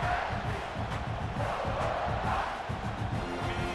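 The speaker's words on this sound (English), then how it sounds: "This crowd trying to make life miserable for this offense." Virtual stadium crowd in EA Sports College Football 26, a dense continuous roar of fans with rhythmic low chanting underneath, loud and sustained throughout.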